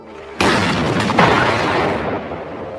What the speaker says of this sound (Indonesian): ternyata suara ledakan ini berasal dari kendaraan mereka